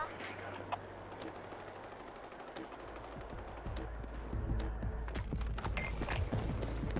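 Gunfire in Battlefield 6, quiet rapid bursts growing denser and louder toward the end amid other battle noise, with a voice talking briefly.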